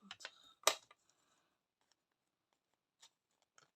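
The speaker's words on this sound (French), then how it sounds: "Vous prenez des ciseaux," A few crisp snipping clicks of scissors cutting paper while making shaker greeting cards, clustered at the start, then sparse faint ticks in a quiet room.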